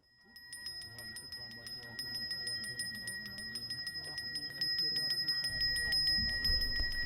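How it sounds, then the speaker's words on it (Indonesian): A Hindu priest's handheld ritual bell rings at Pura Agung Jagatnata temple in Singaraja, Bali, during the Saraswati celebration, with rapid, continuous bright chiming over a soft low murmur that grows slightly louder toward the end. "Suara alunan genta Jero Mangku terdengar merdu ketika memasuki Pura Agung Jagatnata Singaraja"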